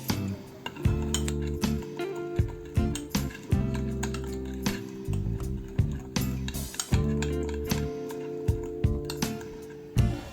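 Half a teaspoon each of oyster sauce and soy sauce with lemon juice being mixed in a small bowl for laksa, a spoon clinking steadily against the dish in quick repeated taps, close and alone.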